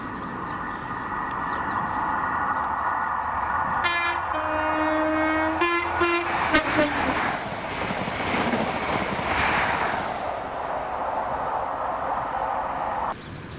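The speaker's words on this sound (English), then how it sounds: "the 1905 ScotRail service to Aberdeen from Edinburgh with 43035 and" A ScotRail InterCity 125 led by power cars 43035 and 43138, running the Edinburgh to Aberdeen service, roars past at Monifeith with a steady diesel rumble, sounding its two-tone horn midway before the train noise carries on and fades.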